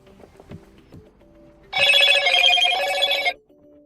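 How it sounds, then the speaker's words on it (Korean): A Motorola Signature 20 phone rings loudly and steadily for about a second and a half, a bright electronic ringtone that starts abruptly after a few soft taps and quiet tones, then cuts off cleanly. "시작 클릭 시 휴대폰 벨이 울려요."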